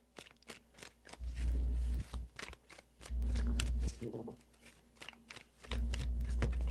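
Tarot cards being shuffled by hand in a few separate bursts of soft riffling and rustling, each lasting under a second, broken by short pauses and light taps.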